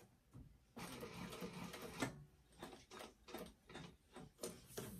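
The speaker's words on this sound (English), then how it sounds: "Back stitch. Needle down to turn." A domestic sewing machine back-stitches a bag, running in short, rhythmic bursts of mechanical stitching with brief pauses between them, close and moderately quiet.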